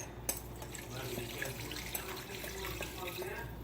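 Water pours into a pot of rabbit stew as a continuous, moderately loud splashing stream, with a few small clinks and knocks from the kitchen.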